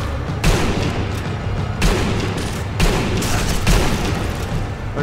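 Gunfire in the video game Sniper Elite V2 with enemies shooting from a distance, dense crackling bursts and booming volleys that swell and fade repeatedly over a loud continuous battle din.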